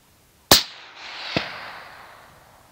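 A single sharp rifle shot rings out during a nyala hunt, loud and close, followed by a rolling echo and a fainter second crack about a second later.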